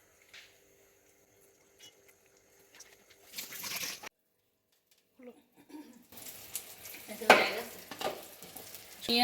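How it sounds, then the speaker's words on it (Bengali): Bursts of oily sizzling and spattering of eggplant slices rubbed with turmeric and salt frying in oil, separated by near silence, growing louder toward the end, with faint background sounds. "আমি বেগুন ভাজা"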